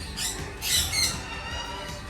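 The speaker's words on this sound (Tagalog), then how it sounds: "Origin, South America. Blue and gold Macau." A blue and gold macaw at a mini zoo gives a few raspy squawks at moderate distance, the loudest two bunched together midway, over a faint background murmur.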